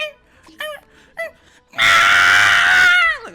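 A person's voice imitating Scrat's scream from Ice Age, a loud sustained high-pitched shriek lasting about a second that drops off sharply at the end, preceded by a few short vocal noises.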